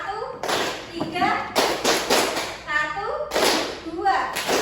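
A classroom of children claps in counted rhythmic bursts, several sharp groups of claps separated by short pauses, with a teacher and children calling counts over them.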